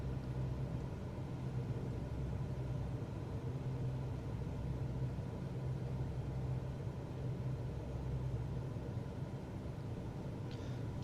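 Steady low droning engine of a Cessna 172 in slow flight in Microsoft Flight Simulator 2024, a constant even hum throughout, with no talking.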